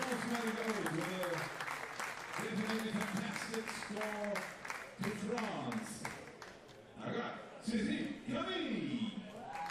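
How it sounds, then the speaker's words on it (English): A home crowd in Châteauroux at a women's 50m rifle three-positions final applauds and cheers the medalists, a sustained roar of clapping and shouts under a commentator's voice. "French crowd go nuts, and rightly so, on home soil here in Châteauroux"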